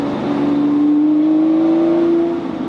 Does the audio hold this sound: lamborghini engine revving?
yes